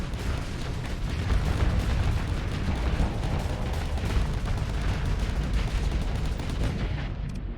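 Heavy, continuous rumbling barrage of impacts and blasts from torpedoes striking a ship during a Starsector space battle, loud and dense throughout with no pauses.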